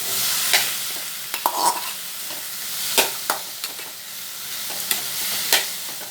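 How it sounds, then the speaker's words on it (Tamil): Chopped chayote sizzles in a pan with sautéed onion and tomato for a buttermilk curry. A steady, bright frying hiss runs throughout, broken by several sharp scrapes and taps of a stirring spoon close by, with no talk. "இது கொஞ்சம் நேரம் வதங்கட்டும்"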